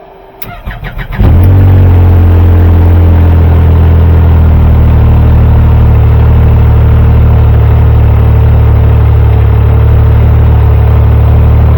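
A Yamaha YXZ side-by-side with a stage 3 turbo kit cranks briefly from an ice-cold start, fires up and settles into a loud, steady idle with a deep, rumbling drone that continues without pause.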